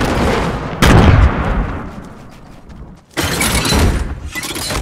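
Two loud, sharp explosion bursts in a video game, one early and a second longer blast after a quieter decaying rumble, each with crackling debris-like noise.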